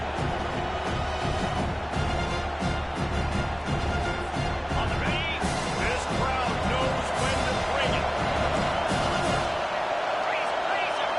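Football stadium crowd roaring and cheering steadily throughout a late-game play, loud and dense, with a broadcast announcer talking over it and the noise thinning slightly near the end.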